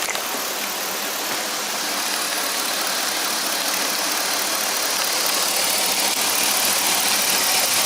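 A car engine idling with cylinder 3 misfiring after its spark plug wire was unplugged, a steady close, dense mechanical rumble that holds level throughout with no speech.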